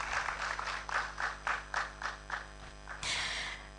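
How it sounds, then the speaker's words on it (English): An awards ceremony audience claps in a slow, even rhythm of distinct beats, then breaks into a denser burst of applause, all set against a low steady hum. "Can we applaud them whilst they make their way up?"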